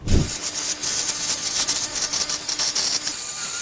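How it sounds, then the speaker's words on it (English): A pencil scratches out a semicircle on a wooden board for a tool caddy, a close, continuous dry scraping that holds steady for a few seconds. "And draw in my semicircle."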